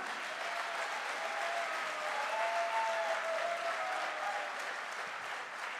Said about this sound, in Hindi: यस, एक बार डायमंड वाली तालियां।